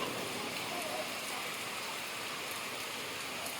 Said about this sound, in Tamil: நல்லா மழை தான் பெய்யுது